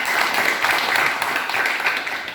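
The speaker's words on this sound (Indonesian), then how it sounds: "Tepuk tangan untuk kelompok 3" Steady, dense classroom applause for a student group, a continuous patter of many hands clapping at even loudness, with no talk over it.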